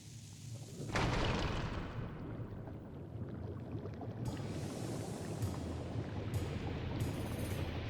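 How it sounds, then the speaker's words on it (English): A bomb blows up in Zelda Skyward Sword HD, with a sudden loud boom that fades into a long rumbling tail and lingering game ambience. "Go ahead and just whack this bomb."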